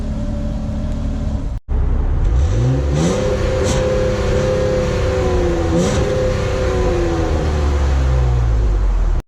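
A 2019 Jeep Cherokee engine, started by remote start, turns over and settles into a steady idle through dual exhaust, with a couple of brief revs rising above the rumble.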